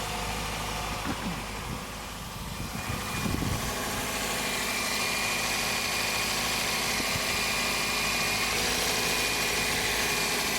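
A Toyota Vios engine idling smoothly after replacement of its power steering and front engine drive belts, a steady even hum heard up close with no squeal and a brief low rumble early on.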